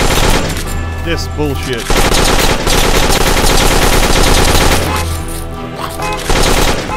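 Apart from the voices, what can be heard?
turrets firing in the video game Dead Acres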